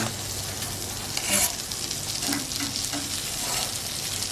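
Sucuk and kasar cheese toast frying in butter in a pan, sizzling steadily and crackling up close, with a brief clatter partway through as the pieces are turned over.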